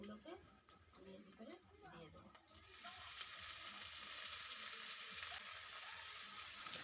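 Quiet kitchen sounds at first, then a loud, steady hiss and crackle as chopped data shak (amaranth stem greens) hit a hot oiled pan and keep frying.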